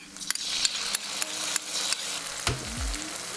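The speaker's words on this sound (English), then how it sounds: "After stir frying the aromatics for 20 to 30 seconds" Oil sizzles steadily in a hot wok as aromatics stir-fry while a spatula scrapes and clanks at intervals, stirring the food; close and fairly loud.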